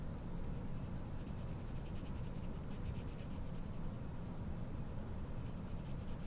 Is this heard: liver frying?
no